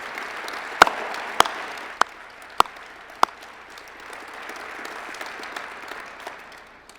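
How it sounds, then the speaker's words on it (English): Guests at a gala honouring military families applaud the Secretary of Veterans Affairs; a few sharp, close claps ring out at regular intervals above a sustained wash of crowd clapping. "if you'd give the Secretary a round of applause"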